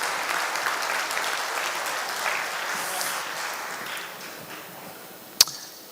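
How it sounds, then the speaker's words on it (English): A conference audience claps for a panel at a social security forum, a dense sustained round of applause that slowly thins, with one sharp knock near the end. "May I hear a lot of applause for our last panel, please?"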